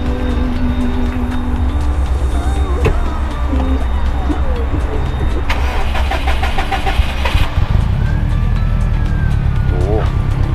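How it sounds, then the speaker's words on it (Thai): A Subaru Impreza WRX STI GC runs steadily and loudly up close, its low engine drone continuous with a rougher, more rumbling stretch near the end, while a voice speaks over it. "วันนี้ได้มีโอกาสมาลองฟังเสียงเครื่องตัวนี้นะครับ"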